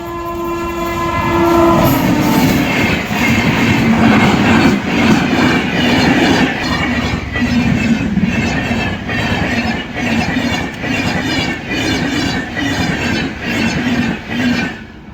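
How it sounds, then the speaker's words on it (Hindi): A passing train sounds its horn, then roars by close and loud, with rhythmic clickety-clack of wheels and some squealing sustained throughout. "ट्रेन आ रही है"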